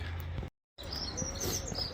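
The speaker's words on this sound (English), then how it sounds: "you can hear so many birds out there in the background" Faint bird chirps and calls scattered in the distance over a steady outdoor seafront background, briefly cut by a moment of silence.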